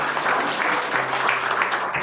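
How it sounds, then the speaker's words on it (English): An audience at a workshop's closing session gives the speakers a round of applause, a steady, moderately close wash of many hands clapping throughout. "can we give a round of applause to our speakers?"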